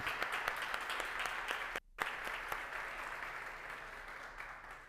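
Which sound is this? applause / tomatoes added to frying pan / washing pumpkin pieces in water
applause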